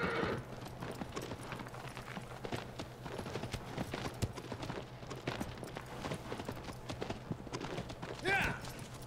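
Horse hooves clip-clopping at a run in the PS4 game Shadow of the Colossus, a steady rhythmic patter under continuous background game sound, with a voice talking over it.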